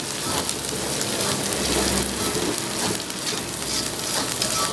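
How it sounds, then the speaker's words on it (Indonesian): Meatball soup spice paste (bumbu bakso) frying in a pan: a steady, dense crackling sizzle that continues without pause at a close, even loudness, with no voices. "Jadi tetap kita goreng sampai menjadi matang."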